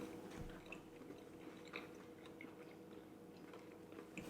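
Someone chews crunchy Thorntons dark mint chocolate close to the mic, with soft, irregular crunching bites over a faint background and no talk.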